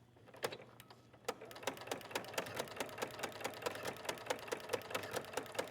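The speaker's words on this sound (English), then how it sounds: "And I will begin stitching." Sewing machine stitching fabric for a scarf or wrap, a rapid even series of mechanical clicks starting slowly and settling into a steady quick rhythm, close and alone.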